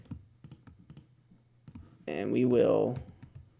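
A computer keyboard tapped during an After Effects motion-graphics tutorial gives a few soft, quick clicks under a man's speech, followed by a louder muffled burst.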